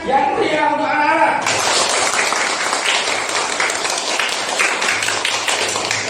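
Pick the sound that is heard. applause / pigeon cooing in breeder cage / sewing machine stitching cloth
applause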